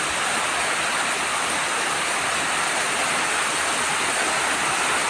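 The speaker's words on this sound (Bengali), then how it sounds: "প্রচণ্ড ঝড় হচ্ছে, বৃষ্টি হচ্ছে," Heavy rain pours during a violent storm, recorded from a balcony among wet coconut palms, a dense steady hiss of downpour filling the whole stretch with no voices.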